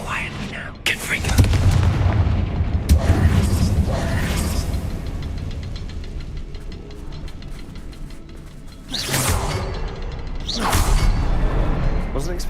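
Confringo explosive spell in Hogwarts Legacy, a booming blast with whooshing bursts and mechanical rumble, followed by further impact bursts, with voices speaking over parts of it.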